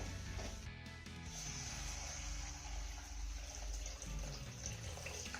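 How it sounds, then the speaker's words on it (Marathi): Hot water poured into a pan of curry with spices fried in oil, a steady continuous rushing pour running throughout at close range, with a faint clatter near the start and no talking. "आता यामध्ये ना आपल्याला 2 ग्लास गरम पाणी घालायचंय."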